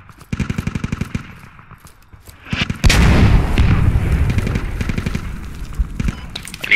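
A rapid string of sharp shots from an M1 Abrams versus T-72 tank battle in the game Squad, followed by a loud heavy blast and rumbling bursts of fire, with brief squad voice chatter.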